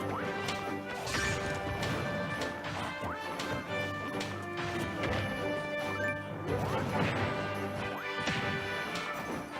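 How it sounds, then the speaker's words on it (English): Super Smash Bros. tournament gameplay with Villager and Wolf, full of sharp crashing up smash hits and whacks landing in bursts amid layered game music and effects, steady and fairly loud. "Up smash is going to take that second stock, so Kain on point with these up smashes."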